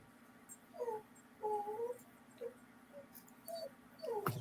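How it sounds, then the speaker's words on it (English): A puppy whimpers and whines in a series of short, high, plaintive cries, some drawn out and rising, coming close by over a low steady hum in the room. "Speaking of puppies, who's making the noise? Can you hear that?"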